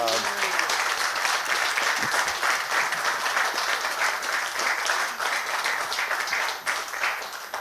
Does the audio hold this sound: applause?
yes